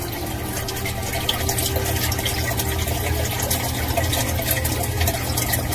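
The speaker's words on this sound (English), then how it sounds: "A lot of water pouring in here, a lot of water" Water pours steadily into a sump pump chamber, a continuous rushing splash with no pauses, fairly loud and close.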